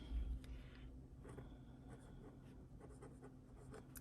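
A Pilot Custom 743 fountain pen with a bouncy nib writes on paper, making a faint, soft continuous scratching close up in a quiet room.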